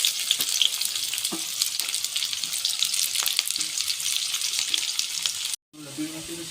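Onion sizzles in white oil with a dense, steady crackle close by, then cuts off abruptly to a brief quieter moment at the end.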